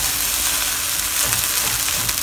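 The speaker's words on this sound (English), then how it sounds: "Frying rice will need a little bit of patience" Rice fries in a hot pan for chicken and salted fish fried rice, a steady, dense crackling sizzle, loud and close, with no talking.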